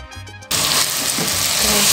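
Mutton hits a pan of browning onion and garlic-ginger paste for a Mughlai mutton karahi and bursts into loud, dense sizzling. The sizzle starts suddenly after a brief quieter moment and holds strong to the end.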